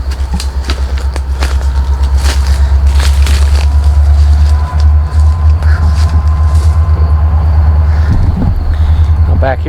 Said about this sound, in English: Comes a train.